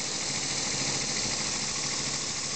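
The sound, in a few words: elbow engine running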